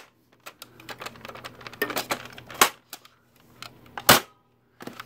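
A Nerf Roto Fury blaster loaded with money is fired and handled, producing sharp clicks and plastic snaps with two louder pops, scattered over a few quiet seconds.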